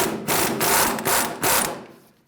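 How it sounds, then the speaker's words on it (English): Impact wrench fitted with a 22mm socket spinning on a Toyota Tacoma inner tie rod nut, loud bursts of rattling hammering in several short pulses, close up, fading out at the end. "we're going to use a 22mm socket on an impact to remove the inner tie rod nut"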